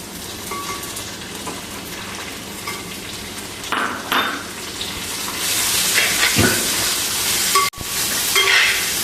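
Curry leaves hit hot oil with ginger and garlic for a beef pickle, giving a steady close sizzle and crackle that swells louder partway through, with a brief clatter of utensils.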